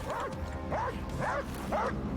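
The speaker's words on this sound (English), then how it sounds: "Yeah, I hear it barking." A dog in the video game Wolfenstein: Youngblood barks four times at an even, spaced rhythm, fairly close and moderately loud, over a steady low game background.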